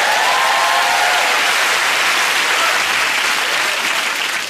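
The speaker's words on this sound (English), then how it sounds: "That's worth a round of applause." A television studio audience on a comedy news show breaks into loud, sustained applause, a dense wash of clapping that holds steady for several seconds before easing slightly at the end.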